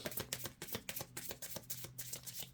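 Playing cards riffle-shuffled repeatedly in a quick, steady run of crisp bursts, close and clear, with no voices.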